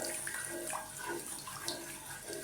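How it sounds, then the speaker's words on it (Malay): Water poured steadily into a pot of seasoned rice mixture for Malaysian nasi ganja, a continuous close splashing and gurgling pour lasting throughout with no talk. "kita letakkan air secukupnya"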